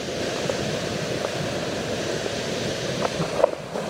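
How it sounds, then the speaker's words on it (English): Steady roar of an angry, rushing river close beside a narrow hiking trail, a dense unbroken wash of water noise heard alone. "The water's pretty angry."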